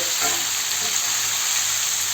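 A steady, close sizzle of sulphur shelf mushrooms frying in a pan, an even crackling hiss with no voices.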